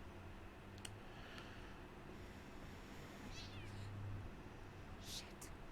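A cat in the video game The Medium gives a couple of faint, brief meows over a steady low background hum.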